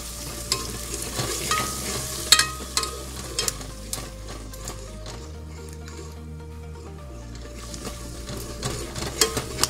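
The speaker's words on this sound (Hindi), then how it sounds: "और इसे तेजी से हिलाते रहेंगे, हिलाना नहीं रोकेंगे, लगातार इसे हिलाते रहेंगे।" Eggs sizzle and fry in a pan while a utensil stirs them briskly, giving a continuous crackle with repeated scraping and clinking strokes, close and clear throughout.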